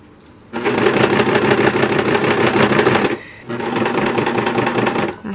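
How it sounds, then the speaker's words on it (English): A sewing machine stitches reusable cloth wipes in two close, loud bursts of rapid, even whirring, separated by a short pause. "I'm going to start sewing it."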